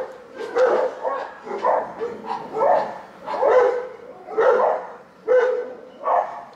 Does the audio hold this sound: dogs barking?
yes